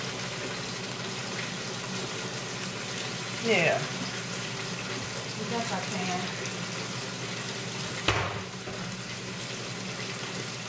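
Running tap water pours steadily over dishes being washed in a kitchen sink, a continuous splashing wash with a couple of brief clinks and knocks, while a person speaks briefly over it.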